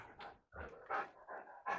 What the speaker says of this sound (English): The dogs have got out.